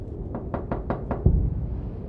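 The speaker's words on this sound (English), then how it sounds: "and the knocking grew louder." Five sharp knocks on a door in quick, even succession, followed by a heavier thud, in a horror story set in a home with a wind backdrop.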